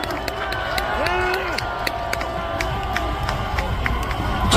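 Crowd cheering and clapping at a Korean political rally on 3.1 Independence Movement Day, with a whistling tone sliding through it and a voice briefly heard; sharp individual claps stand out against the broad, steady roar.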